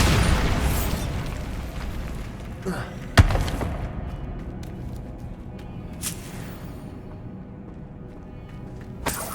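Explosions from the Bombarda spell in a Harry Potter video game come as a few sharp booming bursts spaced several seconds apart over a rumbling game soundscape.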